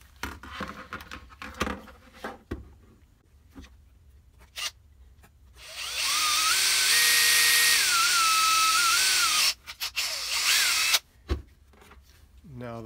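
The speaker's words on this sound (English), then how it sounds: "So I'm going to go ahead and drill out now." A power drill bores a hole in the case of a Korg Volca Beats drum machine, whining loudly for about four seconds with shifting pitch and then briefly again, set among quiet handling clicks and taps.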